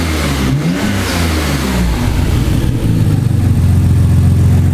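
A Nissan RB26 engine, fitted in a 300ZX, revs up and down smoothly several times, loud and close, with no talking.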